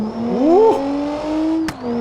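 In the video game BeamNG.Drive, a van's engine is blipped once in a quick rising rev, then settles into a steady idle with a brief click near the end, alone and close.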